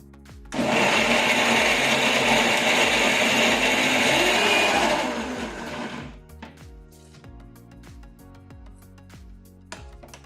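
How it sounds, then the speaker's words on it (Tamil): A mixer grinder whirs loudly and steadily for about four seconds grinding drumstick leaf chutney, then winds down, followed by quiet clatter and soft background noises. "நம்ம அரைக்கிறதுக்கு ரெடி பண்ணலாம்"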